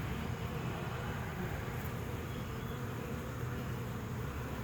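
Honey bees at a hive entrance with pollen coming in, a dense, constant buzzing drone, faint and steady throughout with no voices.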